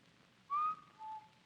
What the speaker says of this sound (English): That is a rather mild-type wolf whistle